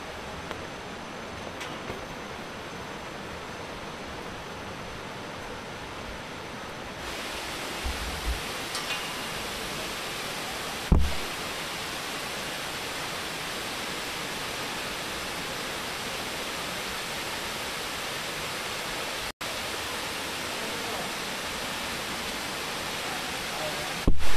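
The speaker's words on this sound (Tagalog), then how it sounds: "Naririnig niyo na po yung agos ng tubig?" Rushing water at Tinago Falls in Iligan City forms a steady, dense roar that fills the whole stretch without letup, broken only by a couple of brief knocks.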